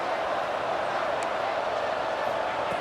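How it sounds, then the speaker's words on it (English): Broad, steady roar of a stadium crowd in a college football video game, San Jose State at Boise State championship, filling the whole stretch at a constant loud level with no distinct cheers standing out. "the crowd really getting into it"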